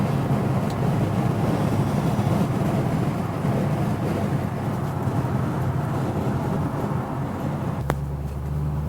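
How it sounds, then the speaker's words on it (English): A 1964½ Ford Mustang coupe with a 289 V8 and automatic transmission cruises down a freeway, its steady engine and road noise droning loud and unbroken from inside the car, with a brief thump near the end. "this short drive on the freeway, so you get a chance to see how well this Mustang runs and drives down the freeway"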